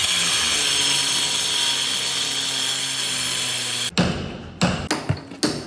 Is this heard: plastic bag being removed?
no